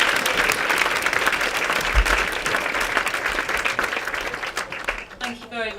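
Sustained audience applause fills a keynote event hall, dense and steady throughout, then thins near the end as a voice begins to speak.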